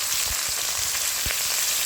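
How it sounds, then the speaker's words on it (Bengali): Bitter gourd (karela), soaked in salt water, frying in hot oil alongside dried chilli and five-spice tempering, giving a steady close hiss with a few soft crackles and pops. "এরপর আমি করলাগুলো ভেজে দেবো।"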